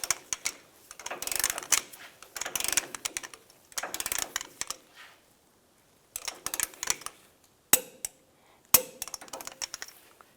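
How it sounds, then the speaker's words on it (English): Ratcheting and clicking of a wrench tightening the center link nut on a 1998-2002 Lincoln Navigator, in close bursts of rapid clicks separated by pauses, ending with a few sharp metallic clinks. "Snug that down. Torque it to 66 foot-pounds."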